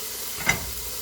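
Italian sausage sizzles as it hits a hot pan while a meat crockpot lasagna is being assembled, a brief soft burst of frying that fades back into steady background hiss.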